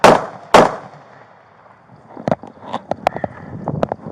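Two sharp, loud gunshots from a police officer's weapon crack in quick succession at the start, followed by scattered knocks and clattering movement close to the microphone.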